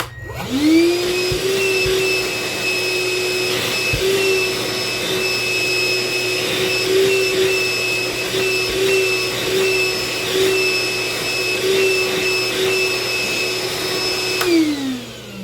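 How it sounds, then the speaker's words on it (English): A Hercules shop vacuum switches on with a rising whine, then roars steadily at a constant high pitch before cutting off near the end; no talking. "I think that's good enough suction to do what I need to do"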